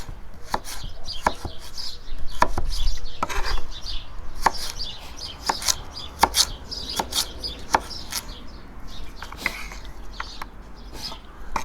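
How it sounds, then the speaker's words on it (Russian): A knife chopping carrot into thin julienne strips on a board outdoors, a steady run of crisp close taps at an even quick rhythm over faint background noise, no talking. "И вот таким образом вот такой соломочкой нарезаем морковку."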